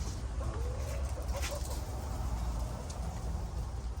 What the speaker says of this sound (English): Nosy chickens.